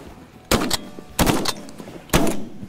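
Three loud shotgun blasts in a field duck hunt over pintails, spaced about a second apart, each sharp and close with a short ringing tail.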